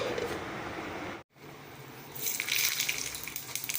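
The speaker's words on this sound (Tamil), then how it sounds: "இது கொஞ்சம் கழுவி கொஞ்சம் ஊற்றலாம்." Running water gushing from a tap as something is washed and water poured, a steady close hiss that cuts off briefly and resumes with brighter splashing, no talking.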